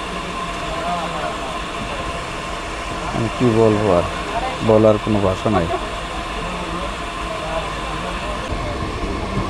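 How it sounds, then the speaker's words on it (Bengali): Banalata Express, a non-stop Dhaka–Rajshahi train, pulls away from a crossing stop and rolls along with a steady rumble and a few bursts of rhythmic wheel clatter in the middle, while someone talks over it throughout. "এই যে আমাদের ট্রেনটা ছাড়ছে।"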